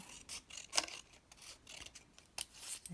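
Scissors trimming a paper craft border to make it slimmer, a few sharp close snips scattered unevenly with brief rustles between them, fairly quiet and with no talking.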